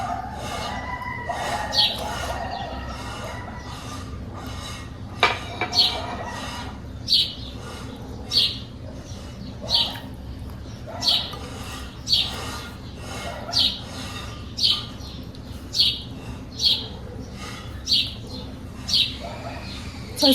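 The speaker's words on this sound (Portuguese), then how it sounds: "Só escutando o barulhinho dos passarinhos." Small birds chirp in a flower garden with roses, in short, regular bursts, roughly one every second, against a steady low background hum; the calls sound moderately close and clear.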